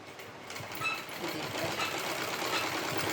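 A sewing machine stitches elastic into palazzo pants while the fabric is pulled taut, giving a steady, continuous whirring run with a faint mechanical rattle, close and moderately loud with no talking.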